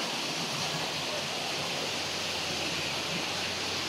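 Water rushing steadily at a cold spring in Bilar, Bohol, where people do laundry, a constant broadband wash of flow with no breaks, fairly close and unbroken for the whole stretch.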